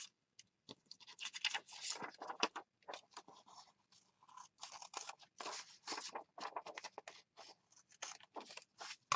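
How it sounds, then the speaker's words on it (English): Paper being trimmed with scissors for a scrappy junk journal, heard as a run of close, crisp snipping and crunching cuts in irregular bursts with short pauses, no talking. "All right, scissors."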